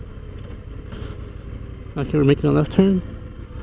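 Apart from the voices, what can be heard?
Indian FTR 1200 motorcycle V-twin engine while riding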